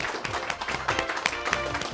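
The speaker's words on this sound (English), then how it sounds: "Let's have a round of applause for our silver medalists today." A school audience applauds silver medalists at a middle school science bowl final, a dense burst of clapping with sharp individual claps standing out in a large room.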